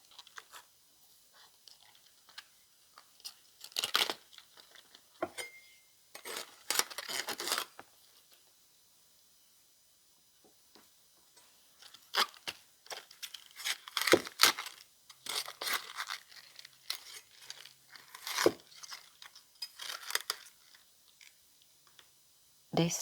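Cabbage for egg rolls is cut in bursts of crisp, crunchy slicing and tearing, close and fairly loud, separated by quiet pauses, with speech at times.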